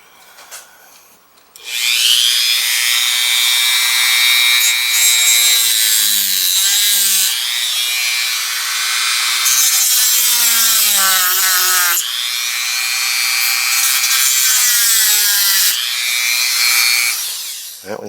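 Power saw cutting off light fittings during a mood-lighting retrofit on a 1987 BMW E30 325i Cabrio, loud and close, a sustained grinding rasp in several long passes with short pauses and pitch shifts.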